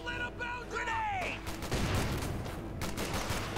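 An aircraft strafing run in the video game Company of Heroes 2 rips out as a dense burst of gunfire following a swooping engine whine, loud and close, with a voice talking over it.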